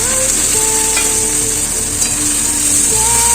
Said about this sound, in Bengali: এবার পেঁয়াজগুলোকে আমি ভেজে দেবো।